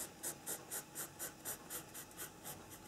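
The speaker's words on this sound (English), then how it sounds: "also the pen on paper sound tends to relax people." Pen scratching across paper while sketching a portrait, a steady rhythm of about eleven short strokes at an even pace, close and soft, with no talking.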